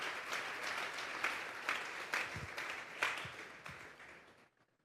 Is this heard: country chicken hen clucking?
no